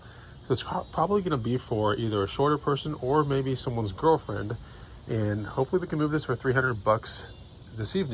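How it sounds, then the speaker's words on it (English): Cicadas buzz in a steady high drone in the background while someone talks casually over them throughout. "we can hear the cicadas chirping around"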